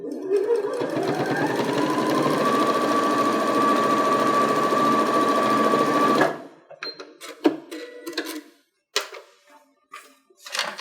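Sewing machine stitching straight across a fabric mask seam in one loud, continuous whirring run of about six seconds, followed by scattered handling clicks and rustles of the fabric.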